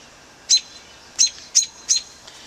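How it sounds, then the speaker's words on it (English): A bird chirps near its nest, giving four sharp, high calls spaced about half a second apart, close and clear over a quiet background. "keep chirping away"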